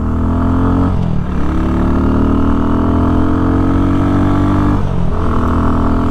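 An Xpro Vader 150 motorcycle engine runs loud and close, its pitch rising steadily in two long revving sweeps, each dropping back briefly before climbing again.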